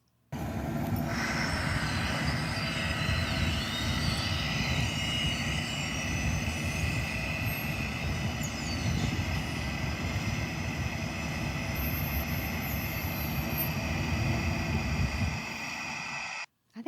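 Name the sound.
engine rumble of Public Works landscaping equipment in a city park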